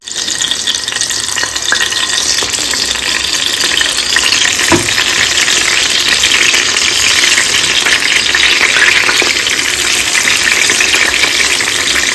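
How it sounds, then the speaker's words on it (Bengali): Eggplant slices fry hot in a pan, giving a steady, loud, close sizzle that holds without break for the whole stretch, with a faint clink partway through and no talking. "গরম গরম বেগুন ভাজবো"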